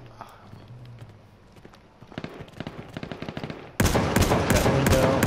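Gunfire in the video game H1Z1: sparse sharp shots build into a dense, loud burst of rapid overlapping gunshots, with faint talk early on.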